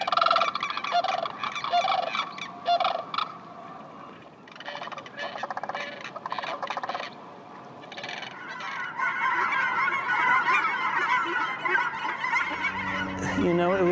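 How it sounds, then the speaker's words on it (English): A dense chorus of geese honking continuously, with harsher crane calls mixed in, steady and fairly loud throughout, like a large flock settling for the night in the Pacific Northwest. "a lot of the cranes and the geese seem to have been more active"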